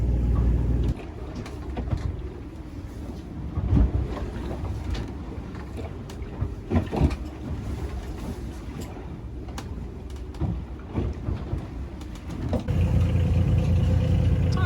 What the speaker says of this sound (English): Got no steam coming out of the engine, and we're off to the Isle of Man.